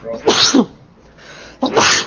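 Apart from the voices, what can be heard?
sneeze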